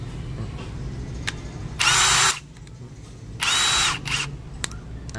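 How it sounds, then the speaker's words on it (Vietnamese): A RIDGID Octane R9500 three-function drill with an auto-lock chuck runs in two short bursts, each about half a second long, close and loud, with a quieter mechanical hum in between. "Đây là cái máy khoan ba chức năng."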